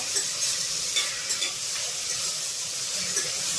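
Onion, tomato and carrot fry in a pan for egg pulav, giving a bright, steady hiss with light scraping of stirring at regular moments, close up and without talk.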